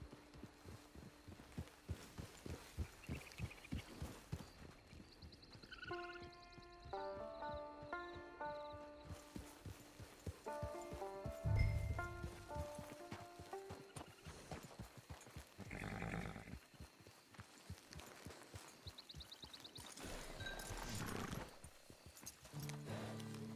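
Horse hooves clip-clopping in the Western video game Red Dead Online, a steady rhythmic series of hoofbeats with game music tones and a brief snort mixed in.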